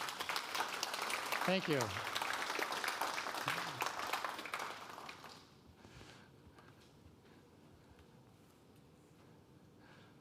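Audience applause at a programming conference after a talk, a dense clapping wash for about five seconds that drops away to quieter room noise, with a brief spoken thanks in the mix.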